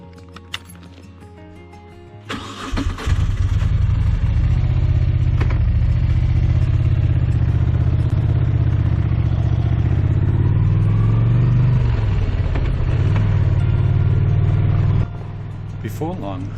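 A street motorcycle on street tires starts up after a quiet idle and rides away, its engine revving loudly and holding a steady, close drone for most of the ride before easing off near the end.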